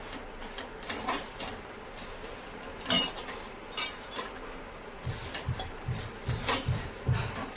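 Puffed rice is tossed and stirred with jaggery in a pan, giving soft repeated scraping and rustling strokes, close and fairly quiet, with no talking.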